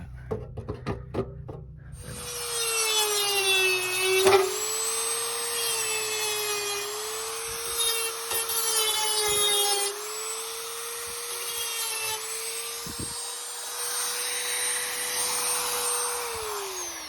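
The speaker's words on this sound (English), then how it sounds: "Had to dig out my old Dremel. And luckily it had a little grinder bit on it still." An old Dremel rotary tool with a small grinder bit whines at a steady high pitch while grinding pegs during an electrical panel install, loud and close, dipping and rising slightly in speed, after a few short handling knocks.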